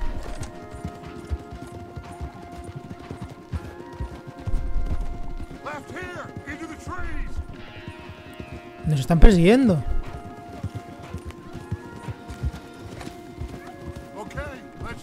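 Horses in Red Dead Redemption 2 trot and gallop with steady clip-clop hoofbeats throughout, with a horse whinnying loudly near the middle, all under ongoing speech and game music.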